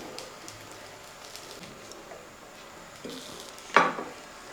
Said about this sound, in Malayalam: ഉടച്ച് വെച്ചിരിക്കുന്ന മീനൊക്കെ നമ്മൾ ഇതിൻ്റെ അകത്ത് ഇട്ടതിന് ശേഷം നല്ലപോലെ ഒന്ന് ഇളക്കി കൊടുക്കുക